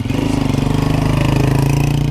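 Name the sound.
motorcycle engine idling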